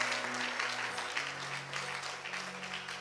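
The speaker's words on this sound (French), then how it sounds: "On peut acclamer la lecture de ces longs versets." A congregation applauds steadily at a church gathering, a dense, continuous wash of clapping that holds at an even level throughout, with a low sustained tone running beneath it.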